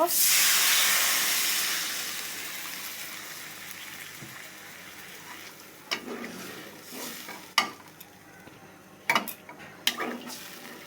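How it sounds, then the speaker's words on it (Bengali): Water poured into hot fried masala for an egg curry sets off a loud hiss that fades over a few seconds, followed by quieter sporadic stirring clinks and scrapes close by. "মশলাটা কষানো হয়ে গিয়েছে এখন আমরা পরিমাণ মতো জল দিয়ে দিব"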